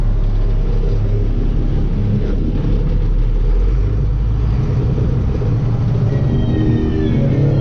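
A truck engine drives along on the way to pick up a load of loam, giving a loud, steady low rumble that runs throughout with no talking.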